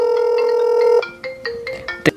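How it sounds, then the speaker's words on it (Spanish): An incoming call on a W59 mini smartwatch sounds its ringtone: a loud, steady electronic tone for about a second, then a quick run of short melodic beeps, close and clear. "te dará su ringtone"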